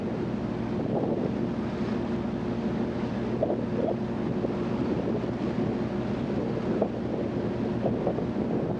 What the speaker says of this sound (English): Here's another waterfall now.